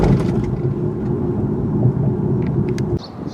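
A 2017 Infiniti Q50 or Lexus ES350 sedan hits a large speed bump at 30 mph, a dense low cabin rumble with noisy tire impact, ending in an abrupt drop and a few light rattles.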